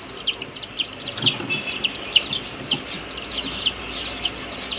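Many young chicks peep in a busy, constant high chorus, close by, with faint low shuffling underneath.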